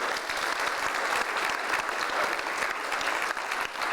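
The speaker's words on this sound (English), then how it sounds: "maybe a little round of applause for them would be in order" A room of diners at an amateur radio club hamfest award dinner gives a round of applause for the chef and staff, a full, sustained clapping that fills the space at even strength.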